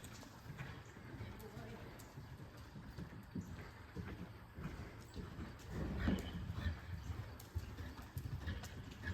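A horse canters in an arena during a riding lesson, its hoofbeats coming in a steady, rhythmic clip-clop at moderate distance over background noise, while an instructor talks intermittently.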